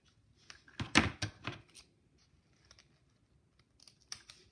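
Scissors cut ribbon at a diagonal while making a wreath, with a quick cluster of crisp snips followed by a few fainter, scattered clicks.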